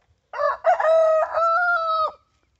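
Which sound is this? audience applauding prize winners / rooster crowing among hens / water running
rooster crowing among hens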